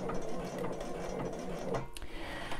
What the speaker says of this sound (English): you can press the locking stitch on your machine that does the up and down in one place lock stitch